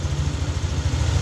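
A hot Yamaha Nmax V2 scooter engine idling, a steady low throbbing rumble heard close up and continuous, with no talk over it.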